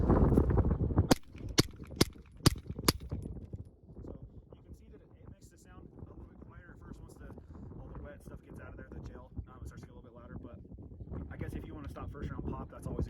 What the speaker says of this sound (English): now we'll shoot the Gemtech wet